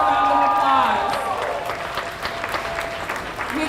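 Crowd applause and cheering fill a hall at a West Michigan election night event, loud and sustained, with a voice shouting over it at first before the clapping settles into a steady roar.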